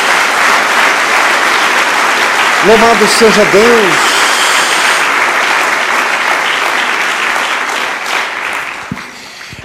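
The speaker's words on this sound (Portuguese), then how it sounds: "Dê uma salva de palmas a Jesus." A church congregation applauds during a sermon, a dense, steady wash of clapping that carries through the whole stretch while a preacher's voice speaks briefly over it.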